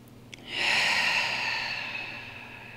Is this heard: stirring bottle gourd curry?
no